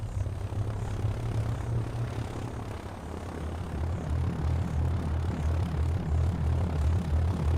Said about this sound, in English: At first light, the spotter plane sets out again.